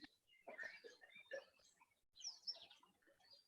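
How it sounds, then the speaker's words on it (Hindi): Faint, scattered bird chirps and short tweets from a few birds, quiet and somewhat distant in an otherwise calm setting. "चिड़ियों की चहचहाट की आवाज भी आ रही है आज।"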